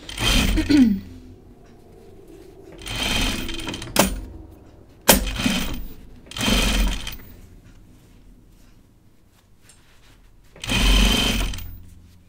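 A sewing machine stitching an Audrey Jean jacket runs in five bursts of a few seconds each, whirring loud and close with pauses of quiet between runs and a sharp clunk in the middle.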